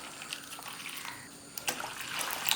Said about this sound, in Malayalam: 2 കപ്പ് വെള്ളം ചേർത്ത് കൊടുക്കാം